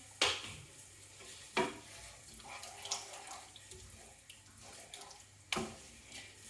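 Tomato puree being stirred into a dry stuffing mixture in a pan, a few sharp spoon knocks against the pan over a soft, wet background hiss, close and quiet, no one speaking.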